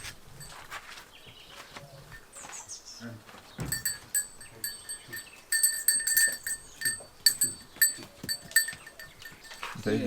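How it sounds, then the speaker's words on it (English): Goats bleat on a farm in Istria, Croatia, with several short, close calls spread across the clip, some higher-pitched like a kid's. A sharp clatter and faint rustling sound around them, and a voice talks briefly. "Baby goat."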